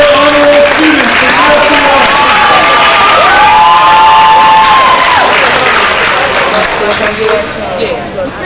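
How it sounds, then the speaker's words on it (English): Loud applause and cheering for high honor roll students at a school banquet, with a roaring crowd, whoops and shouts layered over steady clapping, tapering off toward the end. "Let's give a round of applause for our high honor roll students"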